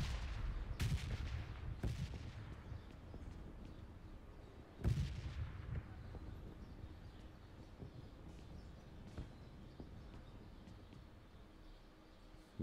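Explosions from the bombing zone in PUBG Mobile: several sharp booming blasts early on, one strong hit near the middle, then scattered fainter distant thuds over a steady low rumble.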